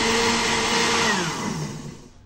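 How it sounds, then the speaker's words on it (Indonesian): A blender mixes milk, sweetened condensed milk and eggs with a loud, steady motor whir. The whir slows and fades as the machine winds down near the end, with no talking. "Lalu di blender sampai tercampur."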